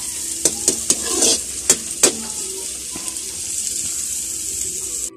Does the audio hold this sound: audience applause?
no